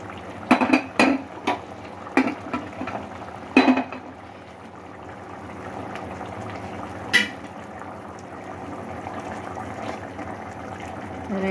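Boiling water sloshes and pours steadily into a pot of cooked mutton for biryani after a few sharp metallic clinks, a soft continuous liquid rush close by.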